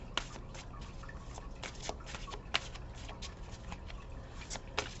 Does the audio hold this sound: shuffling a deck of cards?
yes